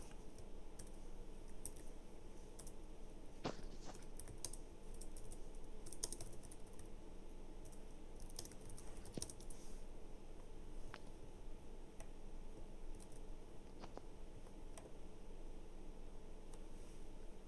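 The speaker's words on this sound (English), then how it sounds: "Oh, he's typing." Steady typing on a computer keyboard during an online Persona 4 Arena Ultimax tournament stream, with irregular key clicks running continuously over a low background hum.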